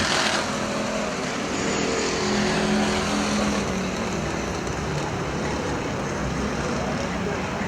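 Factory stock race cars roar around Perris Auto Speedway in a continuous, heavy engine drone that stays loud and level throughout, with no single car standing out.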